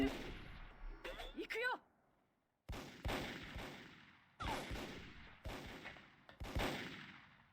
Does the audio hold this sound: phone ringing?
no